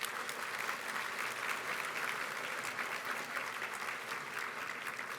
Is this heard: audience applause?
yes